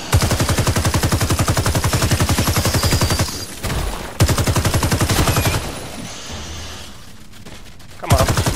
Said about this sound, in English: Oh, who's shooting me?